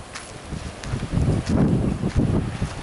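Strong wind gusting outdoors in a backyard among fig trees, buffeting the microphone in rough, uneven bursts with rustling, loud and close.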